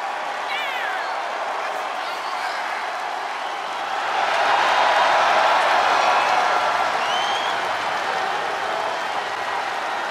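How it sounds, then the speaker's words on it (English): Arena crowd ovation in the WWE 2K24 wrestling game, a broad wash of applause and cheering that swells louder midway and stays sustained, with commentators talking over it. "Listen to this ovation"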